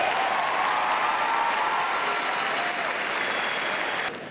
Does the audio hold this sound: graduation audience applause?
yes